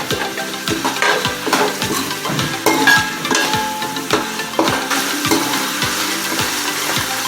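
Onions with coriander and mint frying in a pan for chicken pulao, a steady loud sizzle broken by regular scraping strokes of a stirring spoon, close up and with no voices.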